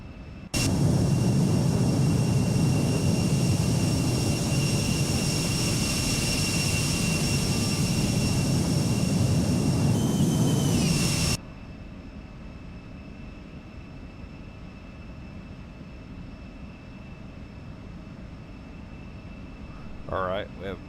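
Simulated Embraer E175 jet engines in X-Plane 12 roar loudly and steadily for about eleven seconds with high whining tones, then drop abruptly to a quieter, continuous hum.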